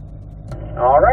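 A Chevrolet Corvette C8 cruises on the Spring Mountain race track, its engine giving a steady low drone throughout, with a voice speaking over it in the second half.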